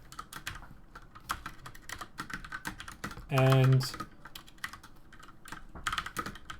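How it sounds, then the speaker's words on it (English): Fingers tap rapidly on a computer keyboard while programming, a busy run of sharp clicks with a brief tonal chime in the middle and a short spoken word near the start. "what is wrong with my typing today?"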